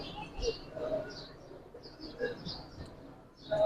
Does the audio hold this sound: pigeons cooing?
yes